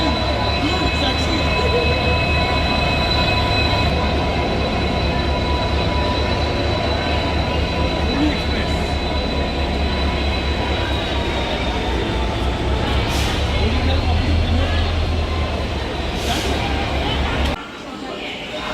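Dhauli Express bound for Puri at Shalimar station rumbles steadily and loudly with a continuous low drone and faint high whine, under a general background of voices, dropping slightly near the end.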